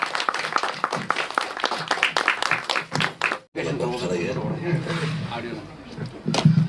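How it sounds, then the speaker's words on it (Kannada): Applause at a film release event for Dhruvatare, sharp clapping for several seconds that stops abruptly, followed by a person speaking over the room. "ಜೋರಾಗಿ ಚಪ್ಪಾಳೆ."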